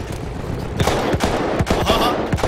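Rapid bursts of gunfire from the video game Battlefield 1, several sharp shots in quick succession at moderate loudness, with no voices over them.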